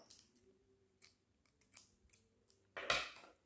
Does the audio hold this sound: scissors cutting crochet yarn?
yes